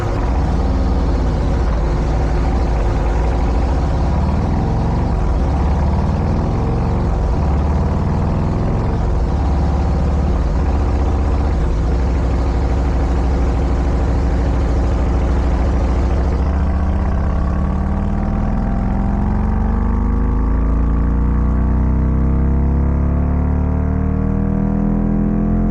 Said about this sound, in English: let's do the dyno run